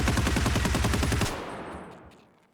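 RPK-16 light machine gun in the Escape from Tarkov video game firing a rapid, loud sustained burst of about a dozen shots, then the echo tails away.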